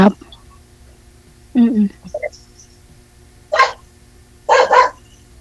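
A dog barks in short bursts, a few sharp single barks and a quick double bark, close by with quiet between them.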